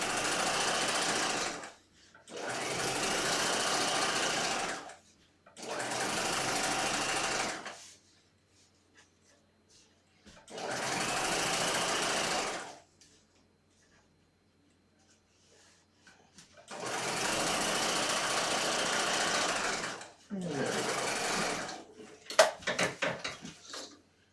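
A sewing machine stitches bias facing onto a skirt hem in five steady bursts of rapid mechanical whirring separated by quiet pauses, ending with a few light clicks and handling sounds.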